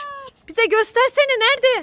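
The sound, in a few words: cat meowing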